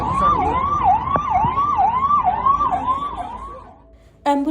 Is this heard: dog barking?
no